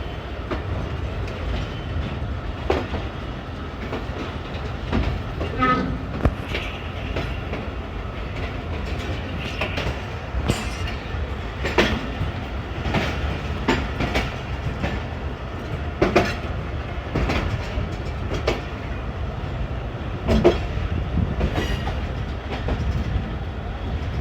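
A Jaffar Express train rolls at a station on a foggy winter day, with a steady rumble, rhythmic clickety-clack of wheels over rail joints and occasional sharper clanks, continuous and fairly close.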